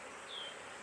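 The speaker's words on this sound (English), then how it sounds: "Yep, so they're definitely looking to swarm on me." Honey bees at a honey-bound hive getting ready to swarm give a steady, close buzzing hum throughout the short moment, with one brief higher whine passing near the middle.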